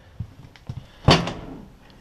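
A deep kitchen drawer on full-extension gliders in a 2015 Airstream Classic 30J travel trailer slides open, with a few soft clicks followed by a single brief rolling thud, nearby and alone.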